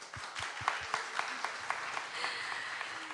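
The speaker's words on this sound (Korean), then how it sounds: "자, 박수 한번 주세요." An audience at a televised game-creation audition show applauds, a steady patter of many hands with a few distinct, rhythmic nearby claps standing out, moderately loud and sustained.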